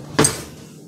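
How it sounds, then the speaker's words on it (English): A metal fork picked up from a kitchen counter, making one short bright clink followed by a faint rattle that fades quickly. "I'm gonna grab a fork."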